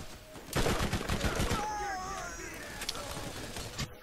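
Gunfire from shooting bandits in a video game, a rapid burst of shots followed by lingering game effects and sustained tonal sounds, with speech in the background.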